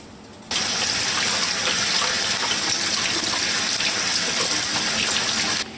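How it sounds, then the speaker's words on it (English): Running tap water pours steadily onto green beans being washed in a sink, a loud even gushing hiss that starts abruptly after a brief pause and continues alone until a near-stop at the end. "all I have to do is wash all these beans"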